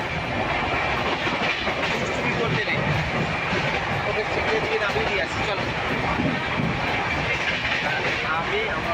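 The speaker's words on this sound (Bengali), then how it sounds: "এখন বালেশ্বর থেকে ট্রেনটা ছেড়েছে" Steady, dense rumble and rattle inside a sleeper-class passenger train running after leaving Balasore toward Puri, a constant loud roar filling the whole stretch with no break.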